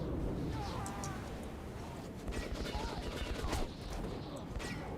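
Heavy gunfire from a big gun in Metro 2033 Redux, rapid overlapping bursts that rattle steadily at close range under a murky rumble.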